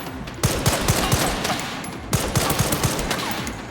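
Two rapid bursts of gunfire in Resident Evil Requiem, loud and close, each a quick rattle of several sharp shots separated by a short pause.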